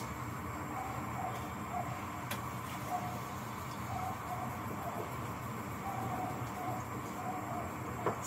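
A gas stove burner is lit while cooking angu and tripe in sauce. Soft, steady ticking clicks repeat under a constant low background hiss.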